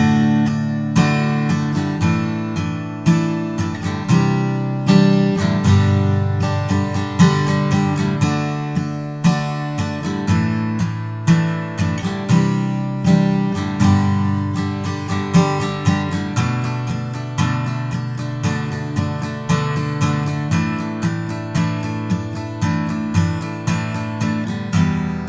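Acoustic guitar strums the chorus in standard tuning, steady rhythmic chord strokes ringing continuously, loud and close, alone with no talking.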